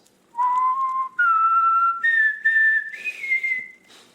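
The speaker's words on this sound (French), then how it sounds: "Ces petits sifflements qui montent." A wallcreeper on a mountain cliff gives a close, clear series of rising whistled notes, each held briefly before stepping up in pitch, heard alone against near silence.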